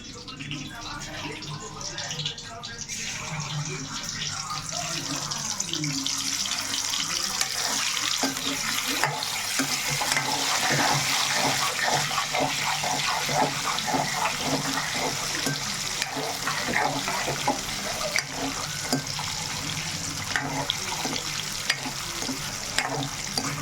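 Steady rain falling outdoors during a rainstorm, a continuous close hiss of water, with sizzling oil from frying dried fish and eggs blending in and occasional speech over it.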